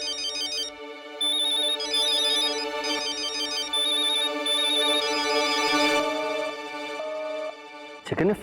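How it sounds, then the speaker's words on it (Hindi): A telephone ringtone plays again, a repeating electronic melody of short bright beeps layered over sustained dramatic background music, loud and close. "जिगर ने फिर से फोन कर दिया।"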